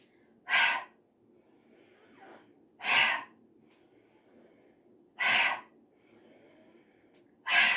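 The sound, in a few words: breathing out through the mouth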